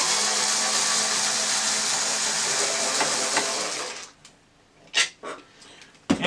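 A screw gun whirs steadily on a Janome 2206 sewing machine while backing out a Phillips screw, then stops, leaving a few brief clicks and knocks.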